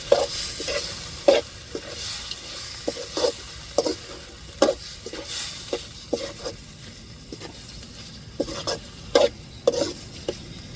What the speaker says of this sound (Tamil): அப்படியே நல்லா கிண்டி விடுவோம்